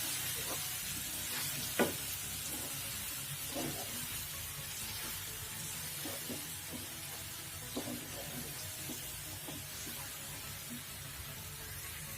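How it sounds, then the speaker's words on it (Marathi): Pithla mixture being stirred in hot oil in a pan: a continuous sizzle with soft, irregular scrapes and clinks of the spoon every second or so, close and fairly quiet, with no talking. "तेलात आता मिक्स करून घेते"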